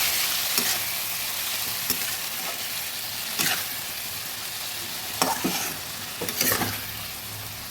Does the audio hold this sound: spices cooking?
yes